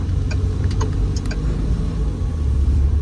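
A Morgan Plus Four with an automatic gearbox pulls away in drive, its engine a loud, steady low rumble with a few faint ticks early on.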